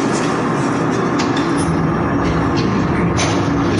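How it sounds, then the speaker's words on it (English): A train passes beside a homeless veterans' camp next to a park on Tucson's south side, a steady, loud low rumble of rolling wheels and rail noise holding throughout, with no voices. "A passing train, their wake-up call."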